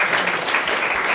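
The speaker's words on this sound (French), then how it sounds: "on peut applaudir Florence" Broad, steady crowd applause from a church congregation cheering a woman named Florence during an anniversary worship service, continuous and fairly loud throughout the short burst with no voices above it.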